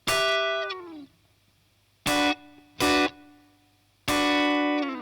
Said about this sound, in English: So just adding a touch of distortion.